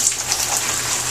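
Shower water running in a steady, close hiss of spray falling on a surface, continuous and fairly loud with no voices over it.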